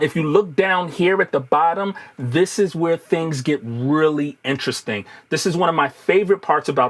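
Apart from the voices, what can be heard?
No everyday noises stand out.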